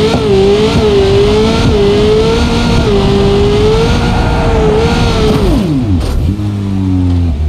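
A McLaren car in BeamNG.drive, the driving simulation game, accelerating hard: a loud, sustained engine roar that climbs in pitch, dips briefly, and then revs up again near the end.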